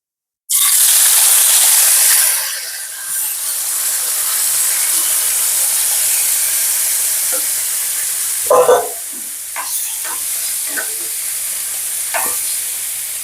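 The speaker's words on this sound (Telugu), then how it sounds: "ఇప్పుడు టమాటాలు వేసుకుందాం" Tomatoes hit hot oil in a pan for tomato chutney and fry with a loud, steady hissing sizzle, stirred now and then with brief clatters of the spoon, with no talk over it.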